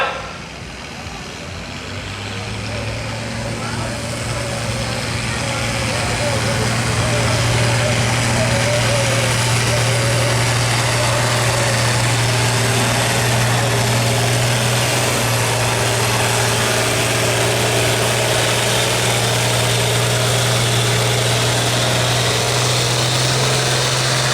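An International truck in a 14,000 lb county fair truck pull, hooked to a sled, its engine rising to a loud, steady roar that holds for the whole pull, with an announcer talking over it.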